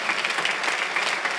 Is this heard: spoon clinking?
no